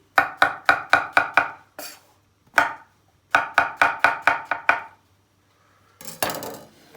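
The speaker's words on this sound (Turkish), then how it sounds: "Hemen sırasıyla malzemeleri doğrarken size göstereyim." Quick bursts of knife chopping through mushrooms on a cutting board, strokes in fast runs separated by short pauses, close and crisp.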